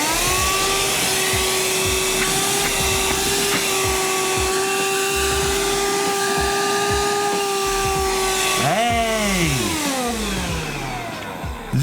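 Small handheld vacuum cleaner with a front light, running steadily with a loud, close suction whine that shifts pitch near the end, heard alone.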